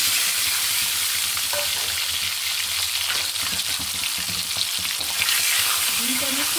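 An egg sizzles steadily in a pan with cardamom, cinnamon sticks and bay leaves, a continuous close frying crackle with occasional stirring scrapes.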